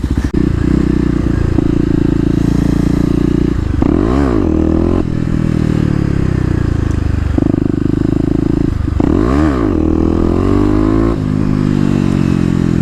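Kawasaki KLX250 motorcycle engine revving hard in low gears, loud and close, with sustained high-rpm drones broken by two sharp rising-and-falling rev swings and brief throttle dips.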